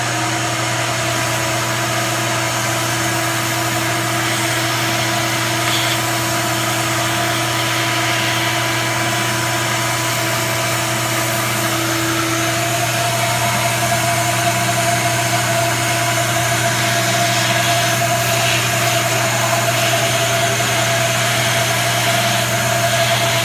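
A G0704 CNC mill cutting at full depth, around an inch, while machining a Z column flip mod, gives a steady loud droning hum with constant tonal lines, close and unbroken throughout.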